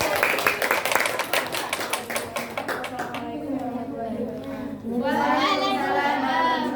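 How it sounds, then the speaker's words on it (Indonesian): Classroom applause from students in an Indonesian grade 8 class, a burst of dense clapping for about three seconds that fades out, followed by a student speaking. "Tepuk tangan."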